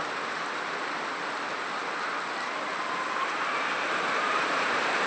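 Rain falling outdoors makes a steady, even wash of fine hissing patter that holds constant from start to finish, with no voices.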